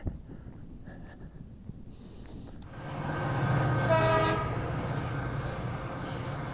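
A Metrolink commuter train on the LA to Lancaster line passes more than a mile off, a low steady rumble that swells and fades with a faint horn-like tone, heard outdoors without talk.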